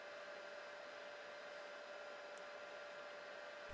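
A HICTOP S250 budget 3D printer running a test print gives off a steady, faint, even whirring hum of fans and motors, with no voices.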